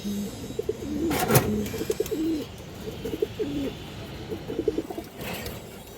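Several pigeons coo close by in low, throaty rolling calls that repeat and overlap, with a brief sharper sound partway through.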